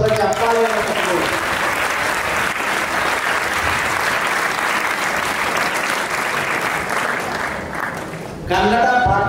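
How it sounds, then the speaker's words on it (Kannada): Loud, dense applause from a large audience at a morning inspirational talk, sustained for several seconds before tapering, with a speaking voice returning at the end. "ನಿಮಗಾಗಿ ನೀವು ಜೋರಾಗಿ ಒಂದು ಸಲ ಚಪ್ಪಾಳೆಯನ್ನು ತಗೊಳ್ಳಿ"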